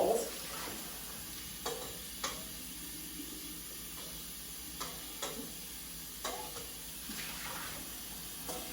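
Water splashes and runs steadily as butter is rinsed out of a mixing bowl, with a few sharp knocks of the bowl against the sink breaking through the constant wash.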